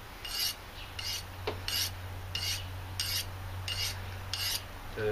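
A knife is drawn across a small Browning sharpener while goose breasts and thighs are being processed: six evenly spaced rasping strokes, close and fairly quiet, over a steady low hum.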